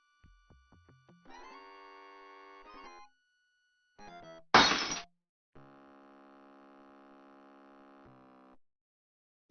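Glass shattering in the Laura Bow 2: The Dagger of Amon Ra video game, a single short, loud synthesized crash between sustained synth tones and plucked game music notes, no talking.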